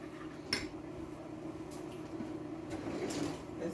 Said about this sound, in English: So you're just gonna whisk it around like that.